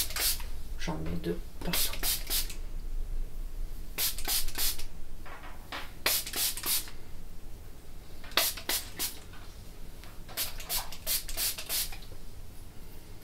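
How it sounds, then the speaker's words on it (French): Keratin hair spray hisses in quick clusters of short pump bursts, close and crisp, repeating throughout while someone talks softly over it. "Et là actuellement je la mets en spray."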